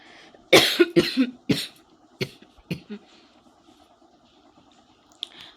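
A woman coughing repeatedly after dust got into her nose, a burst of several close, loud coughs followed by a few fainter single coughs with quiet pauses between.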